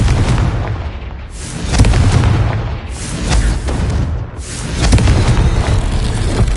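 Confringo spell blasts in Hogwarts Legacy on PS5 hit as heavy, rumbling booms, three or so swelling explosions spaced a second or two apart over a constant loud roar, with no talking.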